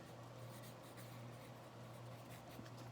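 A pen or marker writes by hand during a geometry construction lesson, a soft continuous scratching and rubbing that is faint and close, with no talking.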